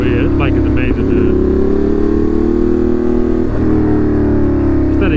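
A Ducati Monster motorcycle fitted with an SC Project exhaust drones loudly at steady revs while being ridden, with a deep, continuous engine note that dips briefly and swells again as the throttle shifts; a voice speaks over it.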